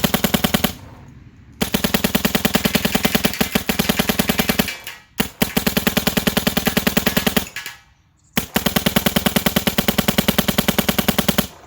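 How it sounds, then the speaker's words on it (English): An Empire Syx 1.5 paintball marker fires in long rapid bursts of evenly spaced, soft-edged shots, loud and close, with two short pauses between strings and no talking. "I just love shooting these things."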